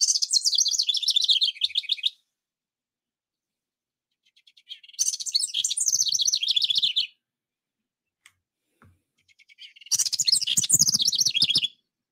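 A small wren sings loudly in three bursts of rapid, high trilling song, each about two seconds long, separated by silences, close and clear with no other sounds.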